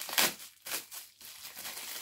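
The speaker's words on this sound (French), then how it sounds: "désolé pour le bruit des emballages si vous n'aimez pas ça" Crinkling packaging plastic, a burst of crackly rustles near the start, then lighter intermittent crinkles continuing close up.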